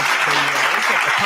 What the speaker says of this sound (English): He done brought his own applause.